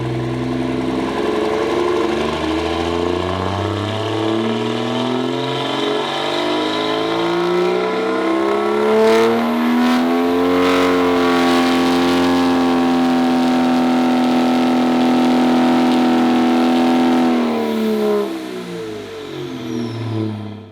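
A billet aluminum 6.7L Cummins diesel engine on a dynamometer winds up through a long, loud pull, its droning roar climbing steadily in pitch for about ten seconds, holding at the top, then dropping back as the revs fall.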